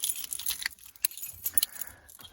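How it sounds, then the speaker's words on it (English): A key is handled and turned in the ignition of a Ford Focus MK3: close, light metallic jangling and clicks in several short bursts, with no engine running. "All you have to do is to just to turn on the ignition"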